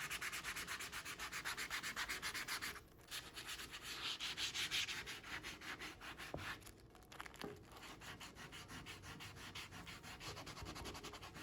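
Crumpled aluminum foil scrubs a surface during cleaning, a close continuous rhythmic scratching and rasping with quick back-and-forth strokes, briefly pausing a few times.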